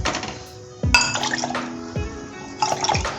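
Water dabbed by hand onto a bhakri flatbread in a home kitchen, heard as close wet slaps and splashes mixed with clinks of a metal pan and utensils, with no speech.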